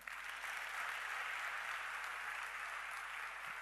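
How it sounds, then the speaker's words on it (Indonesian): A church congregation applauds in a steady, dense wash of clapping that holds at an even level for the whole stretch, with no voices breaking through. "Tepuk tangan dong."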